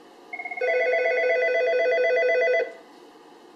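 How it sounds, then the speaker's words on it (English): An Algo 8180 SIP audio alerter and a desk telephone ring at once on a single dialed call: a few quick chirps, then a loud, steady two-tone electronic warble for about two seconds that stops abruptly, heard alone. "when you dial 1081, both the telephone and the 8180 will ring simultaneously"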